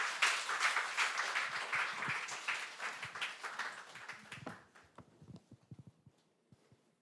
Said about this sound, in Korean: 큰 박수로 우리 환영하겠습니다